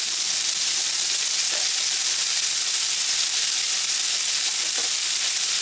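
Onion and bay leaves sizzle in a very hot pan over high heat, a loud, continuous frying hiss that fills the whole span with only faint stirring bumps.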